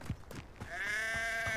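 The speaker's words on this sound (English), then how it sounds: "Sheep!" A sheep bleats in the video game Hogwarts Legacy, a single drawn-out wavering bleat following some brief quiet rustling, faint and alone.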